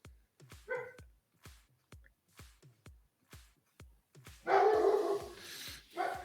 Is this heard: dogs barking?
yes